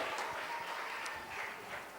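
An audience applauds at an Indian award ceremony for Dalit literature and journalism. Steady, fairly faint clapping continues throughout.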